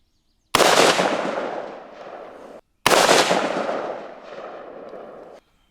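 Two loud rifle shots from a budget $116 AR build fire outdoors at a steel target 75 yards away, each cracking sharply and rolling into a long fading echo.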